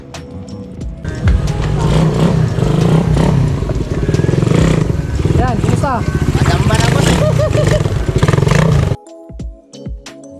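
A Suzuki Raider 150 motorcycle engine runs and revs nearby at a repair shop, rising and falling with some clatter, while people talk over it; the engine cuts off near the end.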